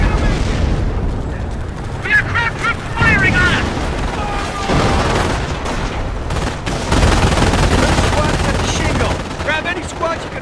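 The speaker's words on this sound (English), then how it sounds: "Keep out between that MG fire and you." Machine gun fire and explosions rake a Normandy beach in a World War II video game, with continuous heavy gunfire and booms under shouted voices throughout.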